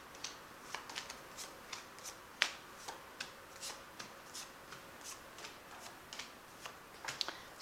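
Tarot cards are handled in a quiet room, with soft riffling and a string of crisp snaps and flicks spaced unevenly as the deck is cut, close and fairly faint.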